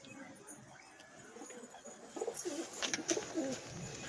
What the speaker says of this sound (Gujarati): 30-40 જેટલા છે કબૂતર બધા।